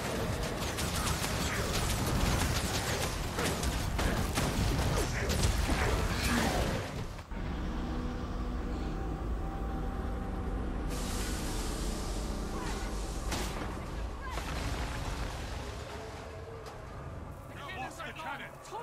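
Cannon blasts and crashing destruction from a battle in the video game Guild Wars 2, Path of Fire, with loud dense booms and smashes across the first seven seconds, then continuing rumbling combat under voices.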